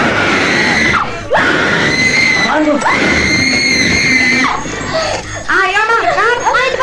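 Children scream loudly and continuously at close range, several shrill voices overlapping in long wails with short breaks between outbursts.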